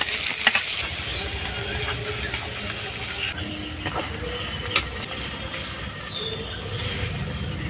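Ginger-garlic paste and chopped tomato frying in a pan, a steady low sizzle with scraping stir strokes and occasional clicks, moderately close and continuous without talk.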